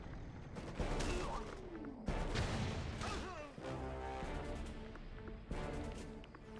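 Red Alert 3 real-time strategy battle with rapid gunfire, crashing impacts and booming explosions in dense overlapping bursts, fairly quiet and distant in the mix.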